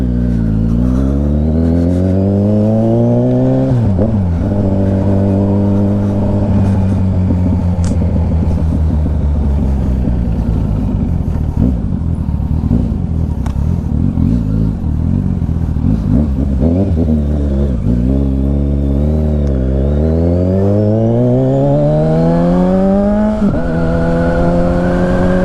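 A Kawasaki Ninja 1000SX motorcycle exhaust revs loudly inside a tunnel, rising and falling through repeated throttle sweeps with a deep, echoing roar that never drops out.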